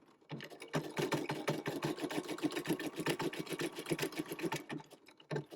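A domestic sewing machine stitches a gift card holder in a quick, even burst of rapid needle strokes lasting several seconds, close and clear, starting and stopping with brief pauses.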